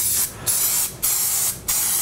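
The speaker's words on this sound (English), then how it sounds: "when you're spraying it, I'm spraying it towards the sink" Baker's Joy flour-and-oil baking spray hisses onto a pan in three loud, close bursts, each about half a second long, separated by brief pauses.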